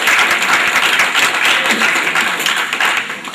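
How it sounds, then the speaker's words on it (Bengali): A conference audience in a hall bursts into loud, dense clapping for performers from the Mirakkel Akkel comedy show, a steady, close roar of many hands that fades slightly at the end. "এই জন্য আমাদের মিরাক্কেল আক্কেল ভাইদের জন্য একটা জোরদার করতালি"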